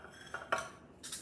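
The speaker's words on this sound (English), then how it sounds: "I think we're ready to fill our cupcake pans" A twelve-cup cupcake pan lined with paper liners is handled, giving a few quiet metallic clinks and taps in a short burst with no talking.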